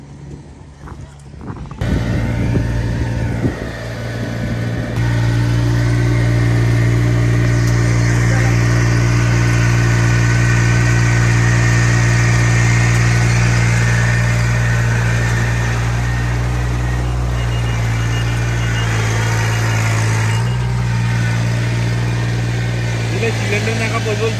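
A paddy transplanter machine's engine runs at a steady drone throughout, loud and close, with a voice speaking over it.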